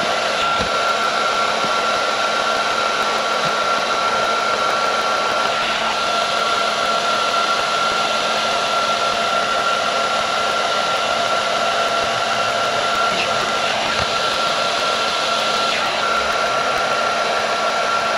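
Heat gun blowing hot air onto carbon fiber vinyl wrap being applied to a Chevy emblem: a loud, steady whine and rush of air running continuously and close up.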